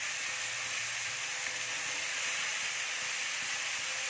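Capsicum and onion petals fry in hot oil in a pan for homemade chilli chicken, giving a steady, even sizzle and hiss with no talking over it.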